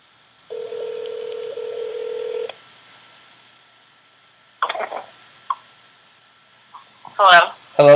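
Phone line tone during a callback, a steady electronic beep lasting about two seconds, then brief clicks and faint line noise, with a voice speaking near the end.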